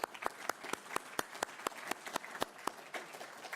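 An audience at a university student research showcase claps in a brief, sparse round of applause, individual claps distinct and fairly quiet.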